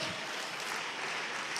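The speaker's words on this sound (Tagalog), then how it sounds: "Palakpakan natin ng malakas na palakpak." A church congregation at a Friday service in Pampanga claps loudly, a dense, steady wash of applause filling the room without pause.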